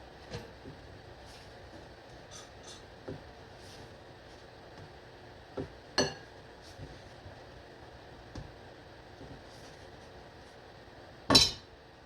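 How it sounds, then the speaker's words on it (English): A large knife cuts a half pound of dough into pieces on a cutting board, giving a few quiet, widely spaced taps and knocks, with one sharper hit near the end. "cut it into 4 to 6 pieces using a large knife"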